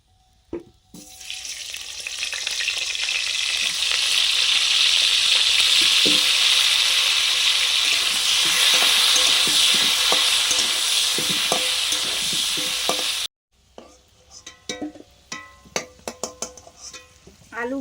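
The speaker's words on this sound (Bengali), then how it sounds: "প্রথমে মাংসের আলুটা ভেজে নেবো" Potatoes for chicken curry fry in hot oil over an earthen stove, a loud, steady sizzle that runs about twelve seconds and then cuts off, leaving scattered clinks and small kitchen sounds.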